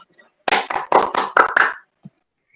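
Short burst of applause in a classroom for students who answered, a few hands clapping in quick clusters for about a second and a half, close and dry, then silence.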